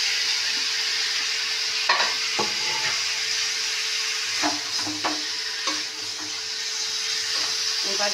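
Prawns cook in a pan with chilli powder and garam masala, a continuous close sizzle overlaid by irregular scraping and clinking as a spoon stirs them, with no voices.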